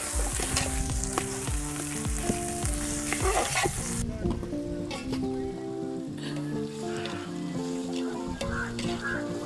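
Spiced masala with chopped tomatoes sizzles steadily in a pan while preparing drumstick chicken, a continuous loud frying hiss with spoon scrapes, under background music.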